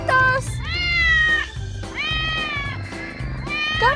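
Cartoon cats meow again and again, in long rising and falling cries that come close together and are loud and up front over a low background bed.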